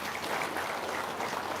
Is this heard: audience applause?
yes